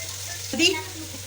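Yogurt poured onto the sides of a hot tawa of frying liver, hitting with a short burst of sizzle over a steady background hiss, close and moderately loud.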